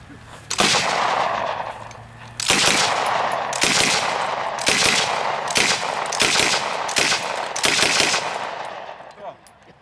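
A military machine gun on a firing range in Lichkov fires several long, loud bursts in close succession, the rapid reports running together, with short gaps between bursts.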